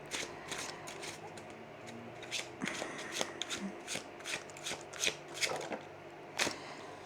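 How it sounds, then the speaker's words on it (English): A springy deck of cards is shuffled by hand, giving a series of crisp riffling bursts and soft snaps spread over several seconds, close and fairly quiet, with no talking. "Whoa, I forgot how springy this is to shuffle."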